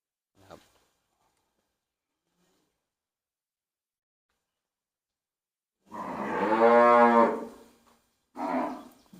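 Cattle in a farm pen after being dewormed and vaccinated give one long, loud, resonant moo, followed by a shorter second call, with near silence before apart from a faint brief sound.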